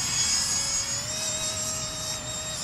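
A Hobby-Lobby MiG-15 radio-controlled model jet flies overhead, its steady high-pitched electric ducted-fan whine holding continuous and fairly loud with a slight pitch shift, no talking over it.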